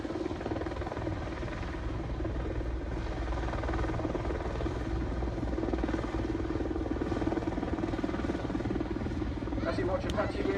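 An Apache attack helicopter hovers and moves sideways in front of an airshow crowd, a steady, loud rotor and turbine drone that persists throughout with broad rumble, while an announcer talks over it.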